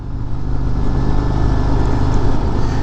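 A 2025 Harley-Davidson CVO Road Glide ST motorcycle, bright red, being ridden, its engine giving a steady loud rumble with road and wind noise throughout.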